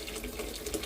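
Hot water is poured into a cooking pot for chicken tinola, a brief steady splashing pour close by with no talk.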